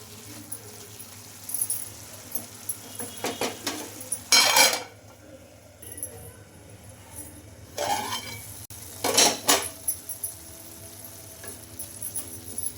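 A utensil clatters and scrapes against a pan while spinach cooks with salt, in several bursts of stirring over a soft sizzle, with quiet gaps between them and no talking.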